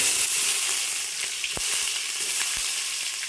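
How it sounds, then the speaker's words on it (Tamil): Chopped onions frying in oil and ghee for chicken biryani give a steady close sizzle, with occasional sharper crackles and stirring clicks. "கட் பண்ணி வச்ச வெங்காயத்தை எல்லாம் சேர்த்துட்டாரு. நல்லா கலந்து விட்டுக்கிறாரு."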